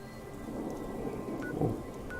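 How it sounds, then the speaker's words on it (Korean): A thunderstorm in the video game Fallout 76: steady rain hiss with a low thunder rumble swelling briefly near the end, heard alone without talk. "번개 무섭다"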